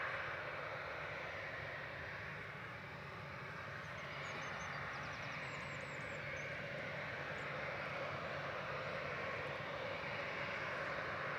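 Ryanair jet airliner engines hum at Manchester Airport, a distant, faint, steady roar held evenly throughout with a few bird chirps over it.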